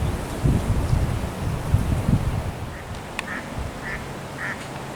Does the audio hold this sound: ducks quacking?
yes